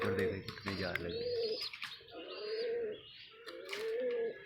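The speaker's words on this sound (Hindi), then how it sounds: "वो ऊपर कबूतर देखे कितने जा लगे।" Pigeons coo in soft, repeated throaty rolls, with a few light chirps and bird sounds around them, fairly close and moderately quiet.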